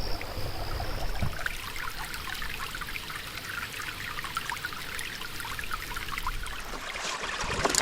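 A shallow river draining out of a lake in Northern Ontario trickles and gurgles as it runs beneath a bed of logs, a steady close-up wash of running water with no voices.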